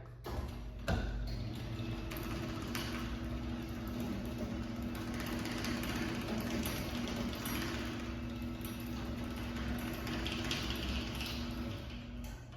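An Overhead Door Phantom 777CD garage door opener, run without the door attached, hums steadily with a low mechanical drone and faint tones, after a single thump near the start.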